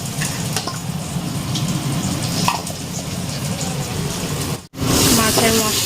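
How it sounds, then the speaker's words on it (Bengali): Spices sauté in a pan for a curry gravy, making a loud, continuous close sizzle with a brief break near the end before the frying picks up again. "মশলাটা এখন কষাচ্ছি ঝোলের জন্য"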